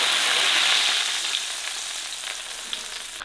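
Lamb brains pan-fry with a loud, continuous sizzle that starts strong and eases slightly as the oil settles, close up and with no voices.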